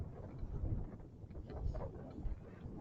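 Strong wind buffeting an outdoor ride on an Angwatt CS1 electric scooter, a low, rumbling roar with gusty swells rising and falling across the moment, no speech over it.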